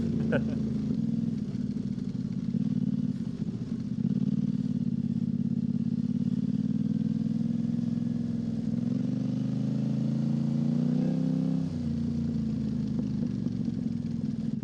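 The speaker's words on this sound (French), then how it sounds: "je vais couper le moteur, on va mieux s'entendre" An off-road motorcycle engine runs steadily at close range with a low, rumbling drone that shifts slightly in pitch, with a voice speaking over it.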